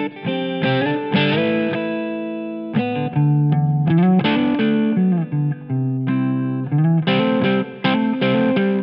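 Distorted electric guitar through a Line 6 Amplifi 150 amp modeler, expressive chords and melodic fills, thick with effects and reverb, loud and continuous with brief pauses between phrases.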